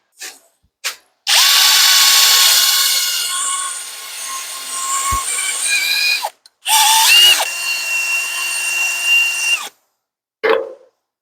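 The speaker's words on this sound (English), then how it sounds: "get my sanding attachment on my drill and do a little power sanding right there" A power drill whirs in long bursts with a sanding attachment grinding against a surface, pausing briefly between runs, loud and close.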